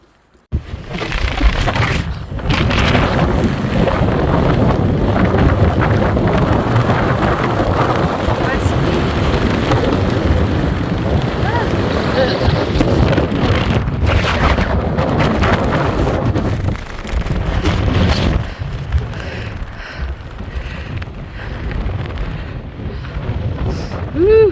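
Strong gusting wind on a hiking trail approaching West Peak on the Appalachian Trail, a loud continuous roar buffeting the microphone for the whole stretch, briefly easing near the end.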